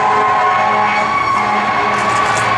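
A fire truck siren wails steadily and loudly somewhere around a lot where a 1966 Ford F-100 Custom Cab pickup is parked, holding a continuous tone through the whole stretch with no one talking.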